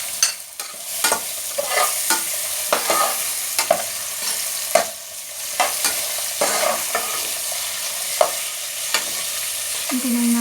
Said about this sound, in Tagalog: Igisa na po natin yung sibuyas at bawang.